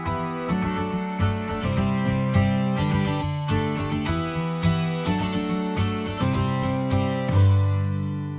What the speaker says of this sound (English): this strummed acoustic guitar from Contact, which is slowly being opened up through this instance of DJM filter that is being automated over